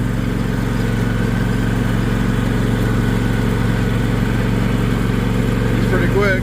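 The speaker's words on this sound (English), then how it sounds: "so I'm taking the mower down." A riding lawn mower engine runs steadily on a farm, a loud, close, continuous rumbling drone throughout with a faint voice underneath.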